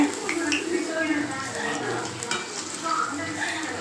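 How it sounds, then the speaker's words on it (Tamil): Masala vadai frying in oil over a low flame, giving a steady soft sizzle with light bubbling crackle throughout, close and moderately quiet. "லோ ஃப்ளேமில் வச்சு இந்த வடையை நம்ம வந்து பொறிச்சு எடுத்துக்கலாம்"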